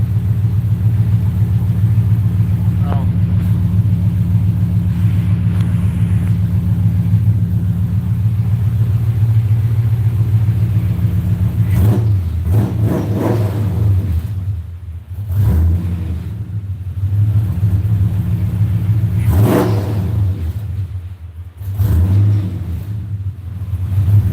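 A 4.6-litre engine being tuned idles with a steady low rumble, then revs up several times in short bursts, loud and close, with no talking.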